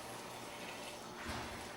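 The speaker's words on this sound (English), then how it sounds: "I'm going to hit it with some of this water that we was cooking in." Cooking water is poured into a homemade New Mexico red chile sauce, giving a steady, soft gushing splash that runs for a couple of seconds with a brief swell near the end.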